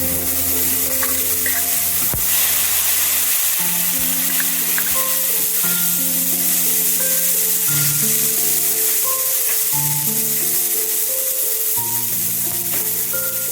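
Onion, ginger, garlic and green chilli paste sizzling in the pan with fried hilsa fish, a loud, continuous frying hiss close by.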